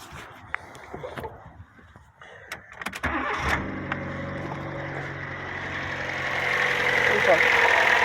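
Fiat Seicento engine cranks and catches after a few clicks and knocks, then settles into an even, steady idle that grows slightly louder; a voice speaks briefly early on.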